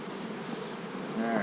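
A dense swarm of bees hums around a hive in one continuous, close buzz, with a single insect whining louder near the end, no voices.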